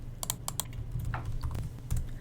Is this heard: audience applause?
no